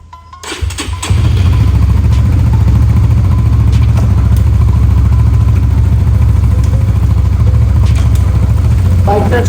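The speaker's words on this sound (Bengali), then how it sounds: "বাইকটা আসলে স্টার্ট দিলাম।" A loud Thai Honda CBR motorcycle engine cranks and catches after about a second, then settles into a steady, close, throbbing idle that runs to the end without any change in pace.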